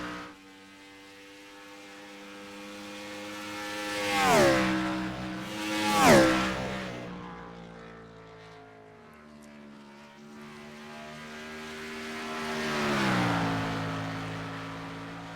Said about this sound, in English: Yeah, these cars sound so good.